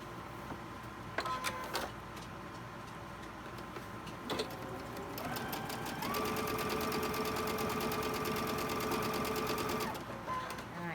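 Sewing machine stitching a quilt block, short whirring bursts at first and then one longer steady run of rapid stitching, quiet and close.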